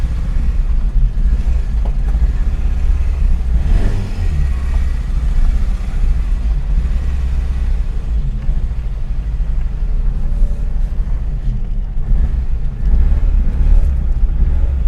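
A vehicle engine running on a test drive, with a gear knob fitted and the engine still warming up; a steady loud low rumble continues throughout, mixed with wind buffeting and road noise.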